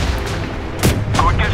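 A single sharp, loud cannon shot from a Pz.Kpfw. II light tank in Tank Company, a quick booming crack that rings out over a steady engine rumble.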